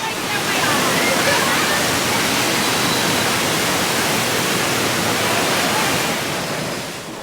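Loud, steady rush of falling water roaring continuously throughout, broadband and close, fading slightly at the end, from the Dudley Do-Right's Ripsaw Falls water ride at Universal's Islands of Adventure, Orlando.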